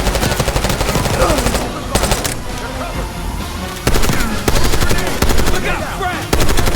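Repeated bursts of automatic machine gun fire in the Call of Duty: Black Ops 6 campaign, loud and close, in several long rattling volleys under a dense battle soundscape.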